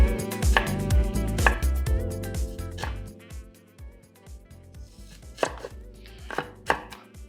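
Onion chopped quickly into small cubes with a good knife on a cutting board, a fast run of crisp, close knocks of the blade against the wood, with a few louder hits.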